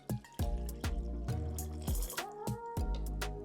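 Water is poured into a pot already holding pumpkin puree for pumpkin spice syrup, giving a series of close drips, splashes and hollow ringing plinks that keep falling at a steady pace.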